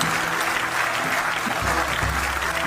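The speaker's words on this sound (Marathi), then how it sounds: "ज्याला ज्याला बायको आहे त्यांनी टाळ्या वाजवा" An audience claps together at a Marathi stage event honoring wives, the applause steady and dense for nearly three seconds with some low murmuring underneath.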